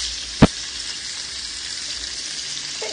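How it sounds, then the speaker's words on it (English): Crab and bacon stuffed shrimp sizzle in a grill pan, giving a steady, close frying hiss throughout with one sharp tap early on and no talking. "crab stuffed shrimp is in my grill pan, starting to cook and season"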